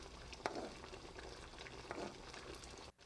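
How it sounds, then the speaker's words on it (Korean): Seasoning sauce bubbling over braised yellow croaker in a pan, a faint, steady simmering crackle with occasional soft spoon sounds. "양념이 끓기 시작하면 수저로 생선 위에다가 양념장을 뿌려줍니다"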